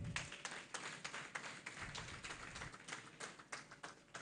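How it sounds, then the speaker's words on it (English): An audience at a university guild presidential debate claps, a fairly quiet, uneven patter of hands with distinct individual claps standing out, heard from a distance. "Please clap for them."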